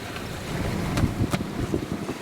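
Stiff north-easterly wind, force six and gusting, rushing steadily over the small sailboat Mingming II as she runs bare-poled before it, a continuous broadband roar with brief louder gusts and no voices.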